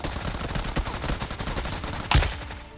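Rapid automatic gunfire from a character shooting from the hip in a battle royale mobile game, a dense steady stream of loud shots ending in one heavier blast, with no voice over it.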